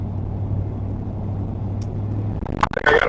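A truck passes on a road during a storm chase, a broad steady rumble with a low engine hum giving way to louder buffeting and whooshing noise near the end, no talking.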